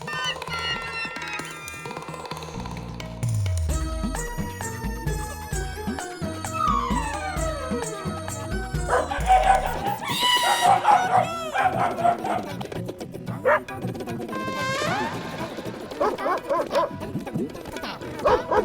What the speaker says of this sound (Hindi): कुत्ते की आवाज कहाँ से आ रही है?